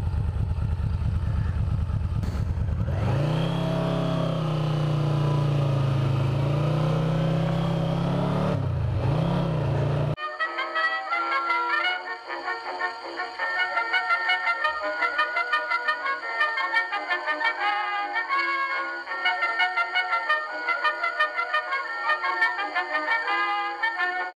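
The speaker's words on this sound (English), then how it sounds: "The 1986 V Max is a 4-cylinder, 5-speed, shaft-driven motorcycle." A 1986 Yamaha V Max four-cylinder, five-speed, shaft-driven motorcycle heard while riding, a loud steady engine drone with rising and falling revs for the first ten seconds, after which the sound changes to a different steady, rhythmic tone.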